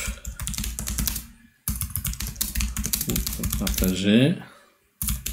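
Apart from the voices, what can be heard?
typing a LinkedIn message on a computer keyboard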